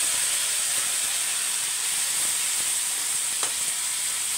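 A hand-crushed tomato sautés in hot oil with curry leaves, giving a loud, steady, close sizzle and hiss that runs unbroken throughout, with no talking.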